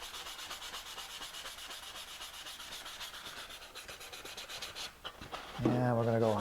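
Sandpaper rubs steadily along the edge of a fiberglass Mini Cooper logo sign, a close, continuous rasping scrape that wavers slightly in rhythm; a voice briefly joins at the very end.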